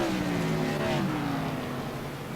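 Modified race cars circle South Boston Speedway, their engines forming a steady droning roar with rising and falling pitch as cars pass, heard at a moderate distance throughout.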